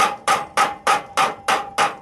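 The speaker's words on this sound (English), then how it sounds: "Through the curve, we're going to use a stretching hammer. Back this with the iron." A stretching hammer strikes a copper sheet backed with iron in seven sharp, evenly spaced metallic blows, close and loud, with a ringing tone under each hit.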